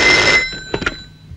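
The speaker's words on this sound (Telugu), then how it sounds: "బాబు వివేక్, మీ నాన్నగారి దగ్గర నుంచి ఫోన్ అయ్యా." A telephone rings loudly and close in a Telugu film scene, one short ring burst that cuts off and leaves a couple of faint knocks in a quiet room.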